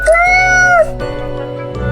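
A cat in the video game Death and Taxes lets out one clear, loud meow close up, followed by soft game background music.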